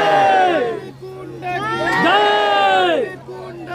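A crowd of devotees at a packed religious gathering chants loudly and close by, with many voices rising together in two long swelling calls separated by a short pause.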